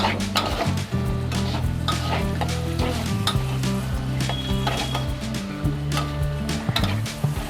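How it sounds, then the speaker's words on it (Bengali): Capsicum sizzles in a cooking pan as it is stirred, a close, steady frying hiss with scraping, clinking utensil strokes, under a faint background tone. "ক্যাপসিকামটা দিয়ে দিলাম। নাড়াচাড়া করতে রাখবো।"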